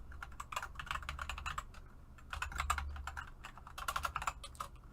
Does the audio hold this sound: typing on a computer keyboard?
yes